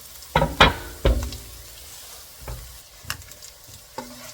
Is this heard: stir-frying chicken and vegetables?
yes